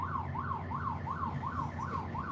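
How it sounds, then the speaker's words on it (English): A wailing siren rises and falls in a quick, regular cycle, several sweeps in a row, heard at moderate distance over low traffic rumble. "It would be the sirens."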